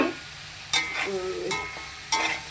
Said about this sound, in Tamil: இப்போ இதோட நான் பொரிச்சு வச்சிருக்கிற சிக்கன், இந்த சிக்கனை கொட்டுவேன். சரியா? கொட்டி நல்லா கிளறிட்டு